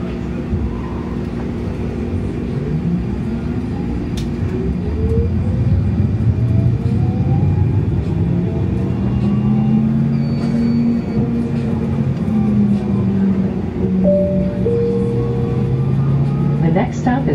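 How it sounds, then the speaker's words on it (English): Siemens S70 light rail train on the Charlotte Lynx Blue Line pulling away, with loud rumbling wheels and rising motor whine that sweeps upward as it gains speed, heard from onboard over steady interior noise. "Train is about to move."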